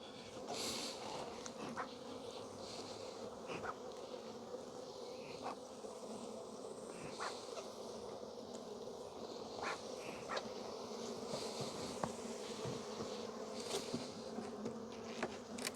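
Bees buzz around two beehive boxes in a steady, close hum, with individual insects droning past now and then.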